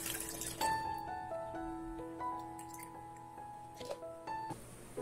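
Water from soaked banana peels drips and trickles faintly as it is strained, with soft irregular drops and splashes in a quiet room.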